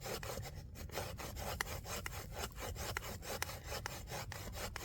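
A wood rasp carves dry branch wood into bird nest material, making fast, rhythmic scraping strokes, close and fairly quiet, repeating evenly and alone throughout.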